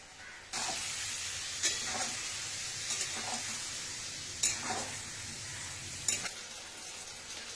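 Ground spice mix of turmeric, coriander and salt sizzles steadily in a pan for a Bengali cabbage curry, with a few sharper stirring scrapes breaking through the continuous frying hiss close by.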